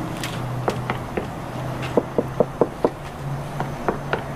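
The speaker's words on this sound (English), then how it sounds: "try knocking on the front windshield" A series of sharp knocks on the front windshield glass of a 2014 Toyota Highlander, a quick run of about five raps in the middle, with scattered taps before and after over a low hum.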